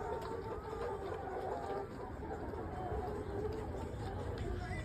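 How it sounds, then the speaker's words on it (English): A poultry farm in Ghana, where many laying hens cluck and chatter continuously in a dense, steady crowd of bird calls, with a person talking over the flock. "And you can see the chickens are looking so healthy and they're happy to lay eggs."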